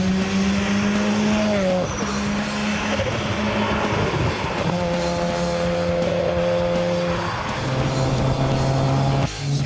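Japanese sports car engine under way, loud and sustained from inside the car, with the revs climbing and dropping through several gear changes over about ten seconds.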